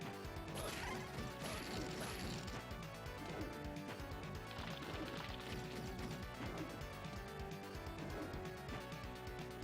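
A glass-breaking effect from the game Castlevania The Adventure ReBirth: a brief bright shatter early on, half buried in dense, loud game music and mechanical clanks that run throughout.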